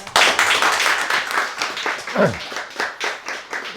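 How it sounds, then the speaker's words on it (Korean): A lecture audience claps after a talk on Mesoamerican culture, a moderate burst of hand claps swelling and easing in uneven waves, with a brief voice cutting in midway. "박수 부탁드립니다"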